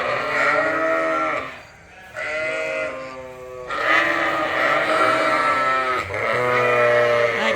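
Several sheep bleat loudly and close by in a barn during feeding time, long wavering calls overlapping one after another with only a brief lull.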